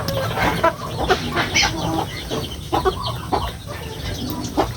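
Several chickens cluck and cackle nearby in a busy, irregular chorus, with short squawks rising over a constant barnyard murmur.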